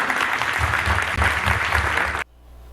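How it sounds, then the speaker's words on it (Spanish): Loud, dense audience applause in a room for a participant, a steady roar of clapping for about two seconds that cuts off abruptly into quiet. "Muy bien, un aplauso para él."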